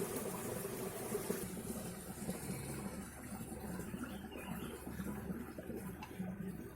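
Steady bubbling and rushing of a small river, continuous and close, with no voices over the flowing water.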